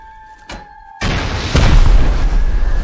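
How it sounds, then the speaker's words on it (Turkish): Rocket launcher rocket exploding in the game Rust: a steady tone and a sharp pop lead into a heavy, loud boom that rolls on, with a second impact layered on top, no talk. "Roket atacağım buradan."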